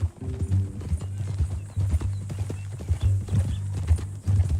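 A horse in Red Dead Redemption 2 clip-clops along at a steady walking rhythm, hooves thudding up close, with a brief whinny and faint background ambience.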